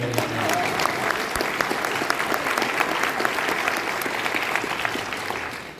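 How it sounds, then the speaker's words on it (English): A panel audience at a theme-park industry conference applauds, steady mid-level clapping from a sizable crowd that tapers slightly at the end, with faint voices underneath. "if the audience wants to applaud for Bob's support to writing, it's okay"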